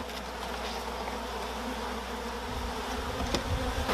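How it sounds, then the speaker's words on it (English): Honey bees buzzing steadily and close as they are shaken down into a hive, a dense continuous insect drone with a soft knock near the end. "So you're just shaking the bees in there."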